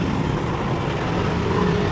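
Night street traffic flows continuously, a dense wash of passing cars, buses and trucks rumbling close by with no break in the noise.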